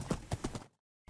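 Horse hooves clip-clopping as a horse is ridden in the Minecraft video game: about four quick, even beats, close and fairly loud, then sudden silence.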